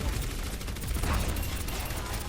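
Continuous gunfire in Overwatch on the Horizon Lunar Colony map, a dense rattling barrage of shots held at a steady level with faint background game noise.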